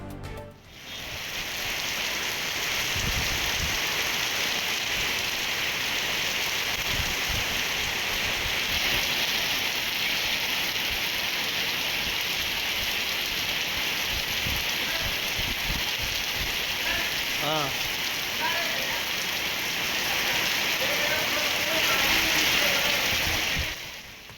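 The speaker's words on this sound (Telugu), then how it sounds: "ఇటు ఉప్పల్, బోడుప్పల్, మేడిపల్లిలోనూ వర్షం దంచుకొడుతోంది" Heavy rain pours down in Hyderabad in a dense, steady roar, with occasional drips and splashes standing out close by.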